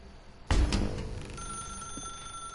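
A telephone bell rings in the video game The Stanley Parable, a sudden loud ring that starts abruptly and then settles into a lingering, steady tone with a faint hum behind it.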